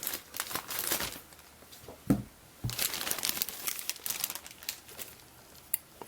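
A sealed plastic bag holding chrome-plated parts for a 1:25 scale 1967 Chevy Camaro Z-28 model kit is torn open, giving close, bursty crinkling and tearing with brief pauses.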